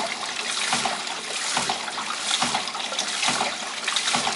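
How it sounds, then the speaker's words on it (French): A pump circulates water from a tank to a surge chimney on a test rig, giving a continuous close rushing and trickling flow that pulses slightly. "j'ai une pompe qui fait circuler l'eau du bac vers la cheminée d'équilibre là"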